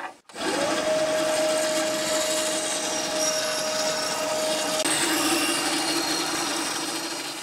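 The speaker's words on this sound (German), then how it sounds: "Und das sägen wir jetzt an der Bandsäge einfach mal aus." Band saw cutting out a wooden piece in a woodworking shop, a steady close motor hum and blade drone with a constant whine, running continuously for several seconds without pauses.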